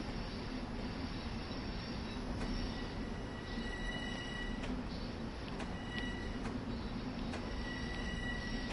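Long Island Rail Road train running through snow in Train Simulator, with a continuous loud rumble of rolling wheels, periodic sharp clicks from rail joints and thin high squeals over it.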